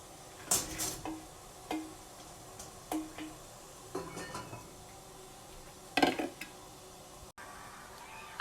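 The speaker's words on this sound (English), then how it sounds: "So we're going to put the cauliflower in the pan." Cauliflower pieces are dropped and shuffled into a metal pan for steaming, producing a series of light clinks, taps and clatters spaced irregularly over a quiet background.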